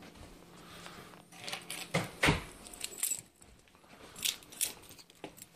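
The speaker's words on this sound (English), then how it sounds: "I forgot keys." A bunch of keys jangles and clinks in scattered bursts, close and moderately loud, with no speech over it.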